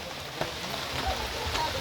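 Rain falls steadily on a muddy mountainside in the Philippines during a rainy-day baptism gathering, a constant soft hiss with a few louder drips, close by and with no one talking over it.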